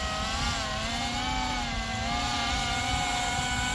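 A Sci Fi Sky 2S or 3S drone buzzes steadily and loudly nearby, with a continuous whining motor hum and layered harmonic tones that hold constant as it comes down to land.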